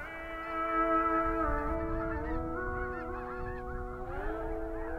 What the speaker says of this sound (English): Comes another raft of geese in, and they're low enough.